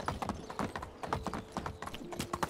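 A horse's hooves clip-clop steadily as it is ridden in the medieval life-sim game Medieval Dynasty, a quick, regular trot that stays moderately near and even throughout with no talking.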